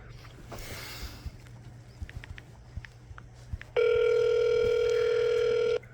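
A telephone line connects while calling in, first faint clicks and room noise, then a loud steady ringback tone holds for about two seconds at the end.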